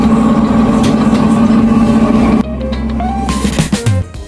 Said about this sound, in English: here's the sound of a tunnel boring machine, or TBM, called Dorothy, working on high speed 2